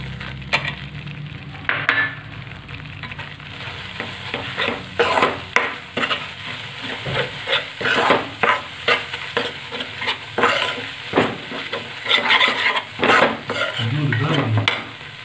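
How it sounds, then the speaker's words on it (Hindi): A spoon scrapes and stirs besan and semolina halwa in a pan over low heat, with repeated rhythmic scraping strokes and a soft sizzle of roasting flour, close and alone without talk. "सूजी को भी बेसन के साथ अच्छी तरह मिलाकर पका लेंगे।"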